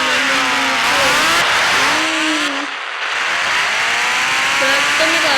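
A car racing at full speed in a mobile bike-and-car game, its engine whining and rising through repeated gear shifts with a brief dip mid-run, loud and steady throughout, no talking.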